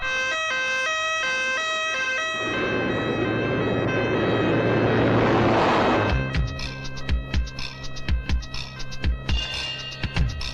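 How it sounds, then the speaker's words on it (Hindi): An ambulance siren wails loud and near, a two-tone pattern giving way to a rising whoop, with a roaring engine or crowd swell in the middle and sharp impacts near the end. "एम्बुलेंस बुलाओ।"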